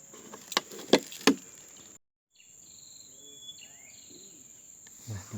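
Crickets kept as fishing bait chirp in a few sharp, close bursts during the first two seconds, over a steady high whine, and then the scene goes quiet.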